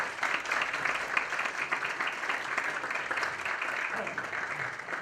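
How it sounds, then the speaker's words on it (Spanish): A conference audience applauds a speaker, a steady, dense wash of clapping lasting several seconds at moderate distance with no clear voices over it. "Le damos un fuerte aplauso, por favor."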